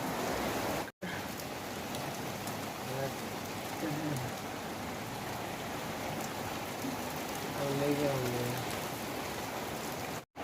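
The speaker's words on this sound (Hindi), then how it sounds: "उसके कुछ सेकंड बाद बारिश होना स्टार्ट हो गया।" Steady rain falling on a rooftop, a continuous broad hiss throughout with faint voices and a few brief tonal sounds mixed in.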